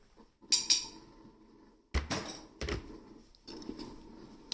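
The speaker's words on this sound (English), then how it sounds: "Knock the jug on the bench, on the countertop, just to break any bubbles" A few sharp knocks and clatters of a milk jug striking a hard countertop beside a Breville Infuser BES840 espresso machine, irregularly spaced, close by, with faint metallic ringing between hits.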